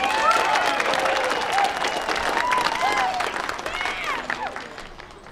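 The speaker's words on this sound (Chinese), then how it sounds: "掌声鼓励" Steady audience applause at a lively stage event with a host, continuous clapping filling the room alongside scattered crowd noise and a few faint voices.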